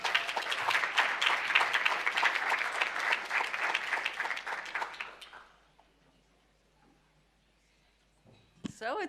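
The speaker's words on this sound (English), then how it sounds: "Another clap, let's clap for that too." Audience at an anti-monopoly summit applauding as a speaker is welcomed to the stage, sustained dense clapping for about five seconds that fades to near silence, followed by a brief sound at the end.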